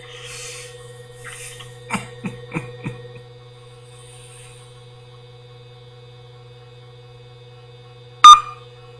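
A few short telephone dialing tones beep in quick succession over a steady mains hum, followed by a single louder tone several seconds later.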